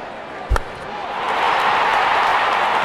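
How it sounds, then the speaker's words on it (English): In the video game Real Cricket 22, a single sharp crack of a cricket bat striking a ball, followed by a rising, sustained crowd roar. "Wonderful sound of the bat,"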